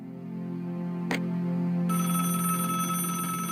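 A telephone rings steadily in Divinity: Original Sin Enhanced Edition, a continuous electronic bell tone that holds for several seconds with one brief click partway through and no voices over it.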